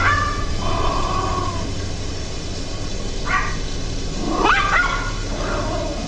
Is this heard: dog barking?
yes